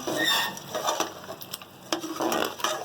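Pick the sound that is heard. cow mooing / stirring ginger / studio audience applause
stirring ginger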